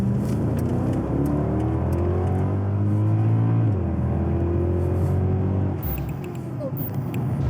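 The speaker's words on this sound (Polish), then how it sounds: "Olej mamy rozgrzany, więc ja sobie pozwolę troszeczkę przyspieszyć." A Mercedes-AMG car with over 500 horsepower and warmed-up oil accelerates, its engine note climbing steadily in pitch, dropping briefly at a gear change, then climbing again before easing off, loud and close from inside the cabin.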